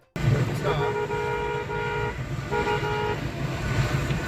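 A car horn honks twice in long, steady blasts over the rumble of traffic.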